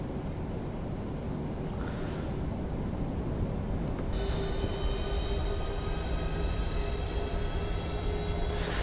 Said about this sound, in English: we will now commence our taxi out to runway 22 here at London Stansted